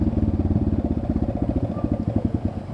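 A motorcycle engine labours on a climb, a close, loud, rhythmic low chugging pulse that putters unevenly as it struggles to pull, with no voices.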